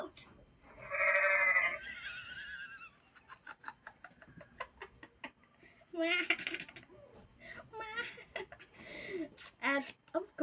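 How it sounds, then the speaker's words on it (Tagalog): A toddler flash card reader toy plays a short synthetic goat bleat, a loud wavering cry near the start, followed by quieter toy speech and electronic voice sounds. "Goat."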